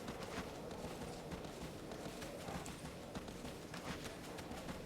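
Horse hooves gallop in the video game Shadow of the Colossus, a quiet rapid clip-clop rhythm continuing steadily throughout under faint background noise.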